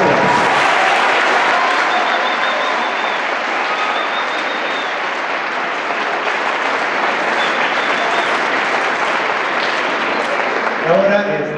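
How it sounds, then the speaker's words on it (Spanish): Loud, sustained applause from a large crowd at a school band concert fills the whole stretch without a break, with a few voices rising just at the very end. "Yo creo que esto merece un enorme aplauso."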